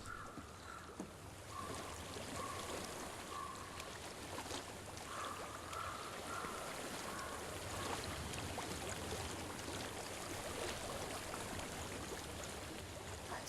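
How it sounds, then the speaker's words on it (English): Steady rushing of flowing water in the video game Hellblade: Senua's Sacrifice fills the scene, continuous and fairly close, with a few brief tonal chimes drifting over it. "I hear water. Go to it."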